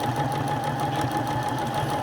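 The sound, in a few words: sewing machine stitching around a pillow cover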